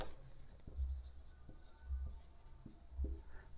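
Chalk scratching out short, repeated strokes on a board during a maths lecture on triangles, close and fairly quiet, with soft bursts of writing between pauses.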